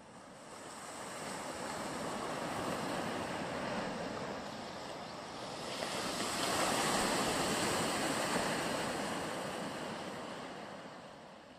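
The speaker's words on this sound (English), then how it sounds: "Echoed the waves, still drumming from a storm." Ocean surf rolls onto a beach in a continuous, broad roar, swelling louder midway through as a bigger wave breaks, with wind-like hiss throughout and no voices.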